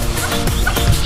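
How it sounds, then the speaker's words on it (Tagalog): A duck that wandered into a backyard garden gives a quick run of close, loud quacks lasting about a second. "May nakapasok na pato."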